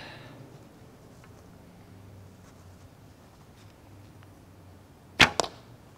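A single arrow loosed from a recurve bow fitted with Velcro limb dampeners gives one sharp, loud snap with a brief follow-up thump, alone after quiet outdoor background.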